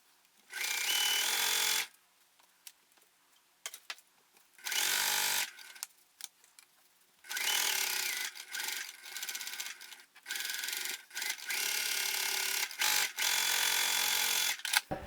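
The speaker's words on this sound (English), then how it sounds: "I'll sew around it to fasten the rubber foam" Sewing machine stitching around rubber foam on backpack pieces, heard close up in several loud bursts of rapid stitching separated by short pauses.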